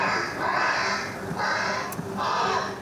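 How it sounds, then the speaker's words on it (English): Crow distress call from 1960s recordings played back loudly to scare birds away: a series of harsh, drawn-out caws rising and fading in quick succession, with no talking. "We've got some recordings made in the 60s. We're able to mimic a birds in distress."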